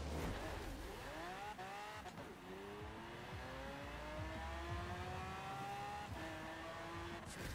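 A hugely powerful sports car of about 2,300 hp per tonne accelerating hard in Forza Horizon 4, its engine climbing through rising gear sweeps with quick upshifts, loud and continuous throughout.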